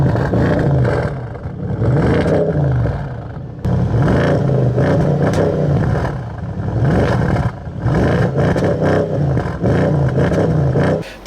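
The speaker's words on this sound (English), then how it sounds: "The downshift blips that come with that are just fantastic" A 2016 Audi S6/S7 with a 450-horsepower engine and sport exhaust revs loudly and close by, surging and dropping repeatedly with sharp throttle blips between gears.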